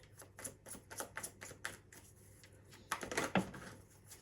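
Tarot cards drawn from a deck, giving a series of crisp taps and shuffling snaps at a steady pace, then a louder cluster of flicks near the end, close and alone with no talk.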